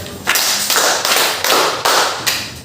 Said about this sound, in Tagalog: bigyan natin na 5 palakpak ang mga sumagot